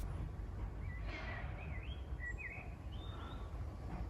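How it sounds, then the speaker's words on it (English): Birds chirping outdoors in Sicily, a few faint rising and falling whistled calls scattered over a low background hum, distant and soft. "We thoroughly enjoy the scenery and listening to the birds chirp."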